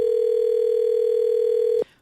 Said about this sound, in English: For now, Lowe's phone continues to ring without an answer.